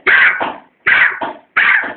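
A voice imitates a dog barking, three loud woof-like calls, each with a short follow-up, evenly spaced and close.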